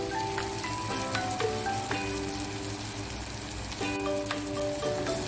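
Anchovies and cassava leaves fry in a pan over low heat, a steady close crackling sizzle like rain on a surface, with faint stirring scrapes and occasional tones underneath.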